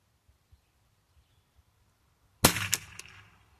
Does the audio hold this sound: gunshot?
yes